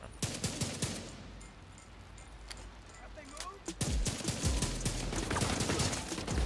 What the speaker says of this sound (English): I gotta get used to using this rifle again